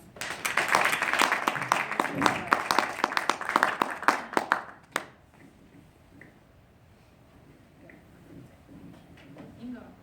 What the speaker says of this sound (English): if you would just welcome him with a round of applause